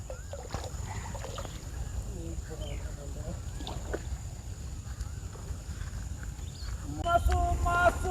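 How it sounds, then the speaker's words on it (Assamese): A boat glides along a village river amid quiet outdoor ambience, with soft low water and hull rumble while voices and intermittent humming carry over it. "নাও গুচি গ'ল চাওক"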